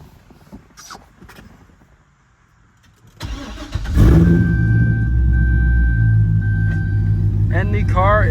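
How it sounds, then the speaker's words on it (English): A C6 Corvette engine cranks and catches, then settles into a steady, close rumbling idle; a faint voice is heard briefly near the end. "And the car is on."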